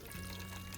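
Birria chile mixture pours steadily into a pan, a soft, continuous liquid gush that is faint and close, with no talk over it.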